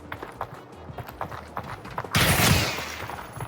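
Sudden burst of gunfire erupts near the end in S&box, loud and dense after a stretch of quieter scattered thuds and footsteps.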